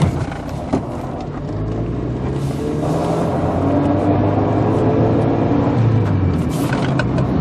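A Honda Civic with newly replaced front wheel bearings drives on pavement, giving a steady, close engine and road rumble with rising tire noise throughout, and no talk.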